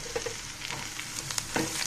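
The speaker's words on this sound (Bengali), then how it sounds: "এই পর্যায়ে আমি সব আলু দিয়ে দিয়েছি, দিয়ে আলুগুলাকে ভেজে নিব।" Potato pieces fry in hot oil in a pan while cooking a fish curry, giving a steady, close sizzle with a few soft stirring scrapes over just under two seconds.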